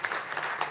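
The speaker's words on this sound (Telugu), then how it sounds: "గట్టిగా చప్పట్లు కొట్టండి." Audience applause at a film success meet, a brief burst of crowd clapping with no talk over it.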